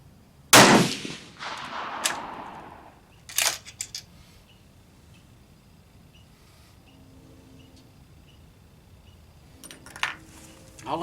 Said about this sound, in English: I'm going to shoot at the lower left diamond again.